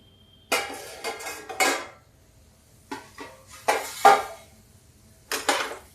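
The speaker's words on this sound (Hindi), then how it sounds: "ये देखिए, इसको ढक देते हैं।" Metal lid and pan clatter in a kitchen as a pot of tindora (kundru) dry sabzi with potato is covered, several sharp clanks in clusters separated by quiet gaps, close and without speech.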